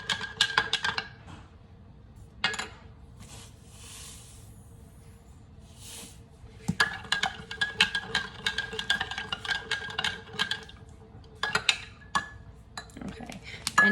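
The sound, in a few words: stirring a mixture in a container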